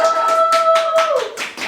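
Clapping from an audience at a Baroque violin lecture concert, a fairly close burst of rhythmic claps with a sustained tonal hum running beneath before it fades.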